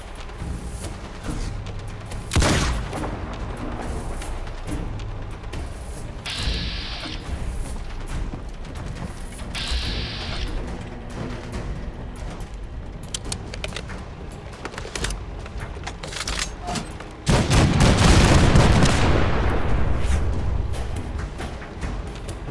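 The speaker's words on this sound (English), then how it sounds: "The cannons are ready. Fire at will. Keep firing, soldier." Cannons fire at scavengers in the video game Fallout 4, loud booming blasts at intervals, one heavy sustained roaring burst near the end, with mechanical clanks and game ambience between shots.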